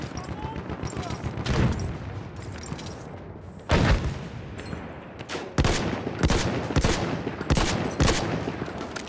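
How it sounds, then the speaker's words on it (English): Loud video-game gunfire during a tank battle, heavy shots and short bursts cracking out at irregular intervals, some booming close by, over a constant rumbling background. "We're getting shot from behind."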